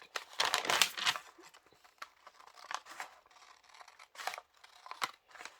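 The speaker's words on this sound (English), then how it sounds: "I am just going to cut on that line" Scissors cut freezer paper along a drawn line while quilt pieces are prepared, giving a close run of crisp snips and papery crinkles that thin into sparser, lighter cuts, with no talking.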